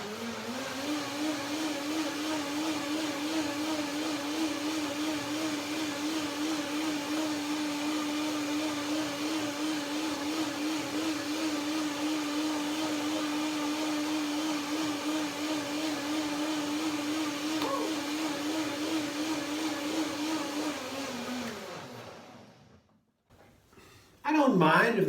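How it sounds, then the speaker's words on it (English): A blender runs steadily for about 22 seconds, whirring soaked cashews and dates into a cream, then cuts off near the end, followed by a brief louder sound. "On the blender, you know, when you blend it longer, it's warmer."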